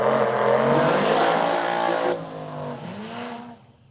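A Corvette drag car sits in the burnout box at a drag race, its engine roaring loud and steady with a harsh, rich tone before the revs drop and the sound eases and fades near the end.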